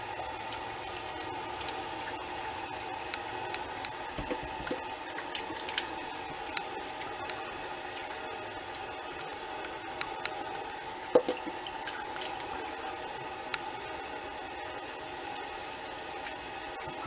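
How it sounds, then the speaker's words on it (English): Cold water running from a tap into a sink for a shaving rinse, a steady hissing flow with occasional small splashes and clicks, no talking. "cold water rinse."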